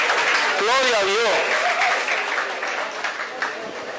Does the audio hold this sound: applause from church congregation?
yes